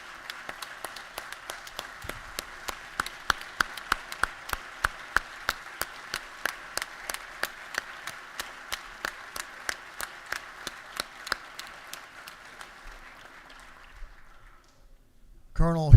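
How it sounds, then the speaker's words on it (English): Clapping for an honoured guest in a state house chamber: a steady train of evenly spaced claps over a low room hum that thins out and fades near the end. "let's give him a round of applause"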